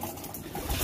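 Racing pigeons coo softly nearby in a short, low burble, with no talking over it.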